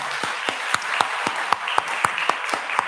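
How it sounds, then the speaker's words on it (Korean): A church congregation at a Sunday morning service claps in a quick, steady rhythm, sharp hand claps spaced evenly over a bed of scattered applause in a reverberant hall. "박수하겠습니다."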